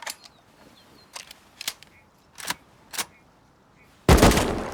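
Single 5.56 rifle shots in the video game Rust ring out one at a time at irregular intervals, sharp and distant-sounding, followed by a loud close burst at the end.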